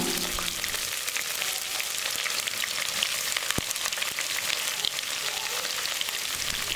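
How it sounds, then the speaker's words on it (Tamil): Chopped onions and green chillies sauté in hot oil with curry leaves for a tomato bajji base, a steady close sizzle and crackle of frying that continues unbroken with no voices. "கருவேப்பிலை நல்லா பொரிஞ்சதுக்கப்புறமா நம்ம கட் பண்ணி வச்சுருக்கிற வெங்காயமும் பச்சை மிளகாய் இது கூட சேர்த்துட்டு வதக்கலாம்."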